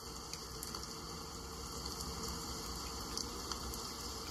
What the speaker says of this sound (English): allow the sound of the sacred rain to calm and soothe you